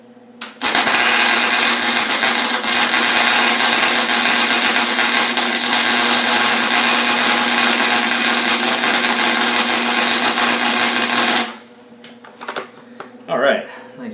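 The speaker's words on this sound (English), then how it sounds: "All right, nice big tack weld on there." Welding a tack onto a kids' quad frame during a repair: a loud, steady, harsh electric buzz and crackle runs unbroken for about eleven seconds, then cuts off, leaving quieter scattered handling noises.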